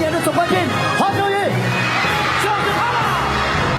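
A large studio audience cheers, whoops and yells continuously for the crowned overall champion at a televised music talent show finale, a dense roaring crowd with shouts rising above it throughout.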